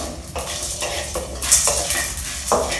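Cumin seeds frying lightly in oil for pirandai chutney, with a spoon clinking and scraping against the pan in an irregular rhythm over a soft sizzle, no voices.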